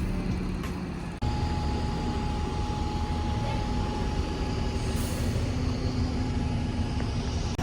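A London bus with registration SN09, driving on route 144, heard from inside as a steady engine drone and road rumble with a faint whine, continuous throughout after a brief dip near the start.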